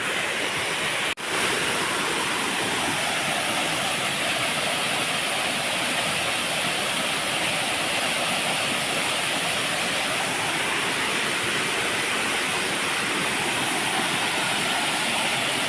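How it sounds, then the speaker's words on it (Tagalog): Pangpang Falls, a waterfall in Samar, roars as a loud, steady wash of falling water close by, continuous throughout with no breaks. "Nice. Nice waterfall."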